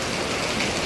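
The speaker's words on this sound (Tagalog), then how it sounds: "Okay lang ganyan kung ulan, kahit ganyan lang ang ulan" Rain pours steadily during a typhoon, a dense, loud, unbroken hiss that fills the whole moment without any talking.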